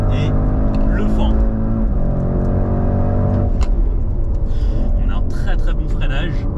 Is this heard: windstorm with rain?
no